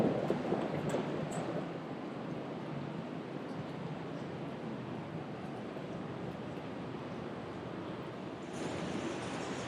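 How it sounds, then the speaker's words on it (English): A continuous broad rush of a river flowing underneath a glacier, steady and moderately distant, with no voices. "there's a rushing river underneath here"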